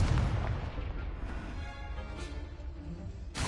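A booming fire-spell explosion in the game Hogwarts Legacy, a loud blast at the start decaying into a rumbling tail, followed by a short sharp burst at the end.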